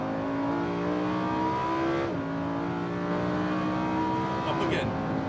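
A Lamborghini accelerates on a Las Vegas race track, its engine a steady, loud droning roar from inside the car, with pitch rising and dropping through gear changes while a voice talks over it.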